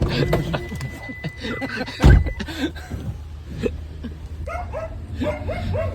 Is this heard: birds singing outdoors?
no